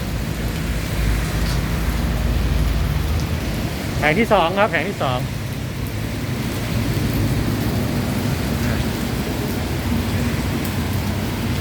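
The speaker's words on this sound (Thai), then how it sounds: "ฝนกำลังตกเลยครับ" Steady rain falling outdoors at a solar panel display site, a constant loud hiss filling the scene while someone speaks briefly over it.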